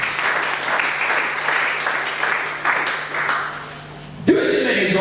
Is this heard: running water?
no